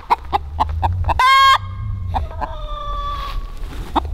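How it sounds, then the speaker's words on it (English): A broody hen clucks repeatedly in short rhythmic bursts, close by, with a louder drawn-out squawk in the middle before the steady clucking resumes. "Usually making a ruckus like that, asking for food."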